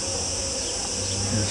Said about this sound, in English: and cicadas, the bugs that buzz.